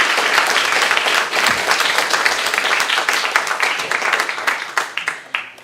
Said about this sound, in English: A big applause for the presentation.